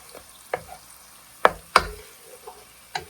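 Garlic and chillies frying with turmeric in a pan, with a few sharp clicks and knocks of a spoon stirring over a soft sizzle, close by and without talk.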